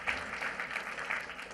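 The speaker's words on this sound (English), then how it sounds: "You can clap. That's perfectly all right." Brief applause from an audience at a Memorial Day ceremony, a soft wash of clapping heard from some distance that is fairly faint and short.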